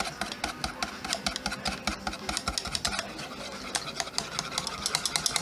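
A wire whisk stirs cheese sauce in a pan, making a quick, rhythmic run of light metallic clicks and scrapes. The taps are close and fairly soft, and no one talks over them.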